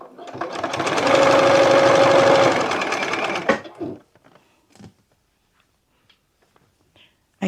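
A sewing machine runs a steady, fast stitching burst for about three and a half seconds while piecing star quilt blocks, then stops, leaving faint handling clicks.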